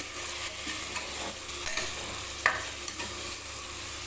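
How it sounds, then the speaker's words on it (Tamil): Half a kilo of washed chicken pieces sautéing in a pan, giving a continuous close hiss of frying with occasional soft scrapes and one brighter clink of the spatula, with no voices. "கொஞ்ச நேரம் வதங்கட்டும் அப்படியே கறி நல்லா வதங்கிருச்சு"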